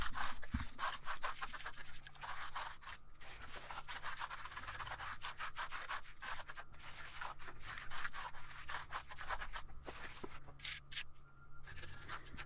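Hand smoothing of a surface at a house build site, repeated back-and-forth rubbing strokes in a steady, fairly quiet scraping rhythm with no talk.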